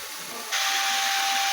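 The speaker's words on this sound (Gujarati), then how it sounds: "આ રીતે ધીમા ગેસ ઉપર આપણે ડુંગળીની પેસ્ટને સાંતળવાની છે।" Onion paste with crushed garlic and chopped green chili sautéing over a low gas flame for stuffed masala okra, a steady broadband sizzle that jumps abruptly louder partway through and then holds even and close.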